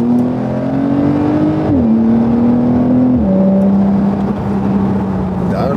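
A Porsche 992 accelerates hard. The loud, close engine drone climbs in pitch, then drops sharply at each of two gear changes before pulling on steadily.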